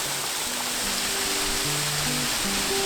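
Waterfall at Nant Bwrefwr in the Brecon Beacons woodland gives a constant broadband roar of rushing water, steady and fairly loud, with faint tonal hums drifting beneath.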